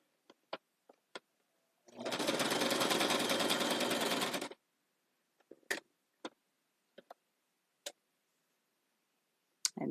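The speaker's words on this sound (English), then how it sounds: "quite currently I am sewing with corset fabric, which is always heavily woven" A sewing machine stitches through heavily woven corset fabric in one steady, loud run of about two and a half seconds, framed by scattered sharp clicks and ticks before and after.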